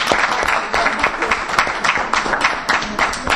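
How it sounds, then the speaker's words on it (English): Audience applause at a women's seminar, a lively burst of many hands clapping close by with sharp individual claps standing out, sustained at full strength throughout. "still deserves another round of applause"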